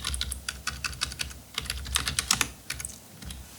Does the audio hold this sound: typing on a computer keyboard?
yes